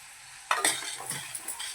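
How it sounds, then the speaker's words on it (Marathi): A spoon stirs ground spices, salt, asafoetida and turmeric in hot oil for a prawn curry, giving a short burst of scraping and sizzling hiss over a quiet background. "हे सर्व मसाले टाकून व्यवस्थित असं त्याला हलवून घ्यायचं"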